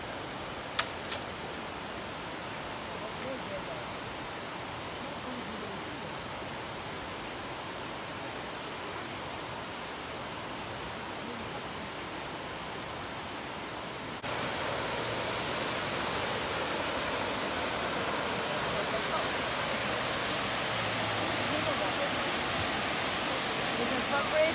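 Continuous rushing water from Barberville Falls on the Poesten Kill, a steady broadband roar that grows louder and fuller partway through.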